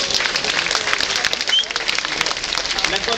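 Applause from the audience at a world dance and music festival in Montignac, greeting the absent Côte d'Ivoire group, a dense, even crackle of many hands, fairly loud and sustained, with faint voices mixed in.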